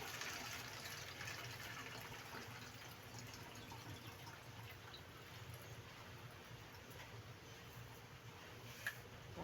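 Mineral water being poured for homemade dishwashing liquid, a steady, fairly quiet liquid gush running without a break, alone with no talk.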